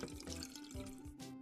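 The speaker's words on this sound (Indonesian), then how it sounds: "ini kita siram dulu ya mangkoknya. Pakai air sampai kotorannya luntur." Water runs steadily over a bowl as it is rinsed to loosen dirt in a home kitchen, a soft continuous splashing and trickling with small irregular drips, fairly quiet and without talk.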